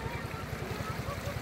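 A boat engine chugs steadily in a quick, regular rhythm beneath wind and water noise during a ride, with people talking nearby.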